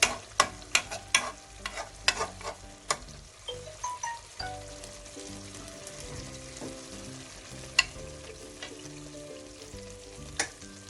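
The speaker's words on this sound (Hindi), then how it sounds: "चिकन की हमने अच्छे तरीके से बुनाई कर ली है।" Chicken pieces sizzle and fry steadily in a pan for restaurant-style white chicken karahi, with repeated sharp scrapes and clacks of stirring up close, loudest in the first few seconds and then continuing under a steady tonal background.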